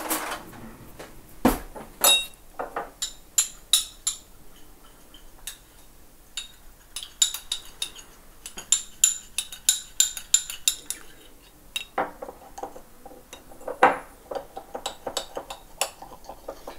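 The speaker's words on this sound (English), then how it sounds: "so it's going to be a lovely strong brew. I'm going to stir that up." A spoon stirs a strong brew in a cup, producing a series of sharp, close clinks and taps in irregular bursts, with quieter gaps and occasional kitchen knocks between them.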